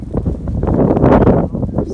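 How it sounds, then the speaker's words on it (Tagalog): Strong wind buffets the microphone in a steady low rumble on a hike, swelling through the middle, with no clear voices. "Grabing hangin."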